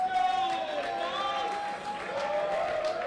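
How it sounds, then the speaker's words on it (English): Arena crowd at a college club ice hockey rivalry game, Colorado State at Colorado, cheering and applauding as the team takes the ice, a sustained roar with a voice talking over it. "The crowd is loving it."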